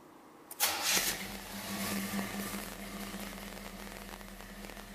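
A 1979 Chevrolet Malibu wagon with a Chevy 350 V8 and Edelbrock carburetor cranks and fires up with a sudden loud catch, then settles into a steady, close idle with no talking.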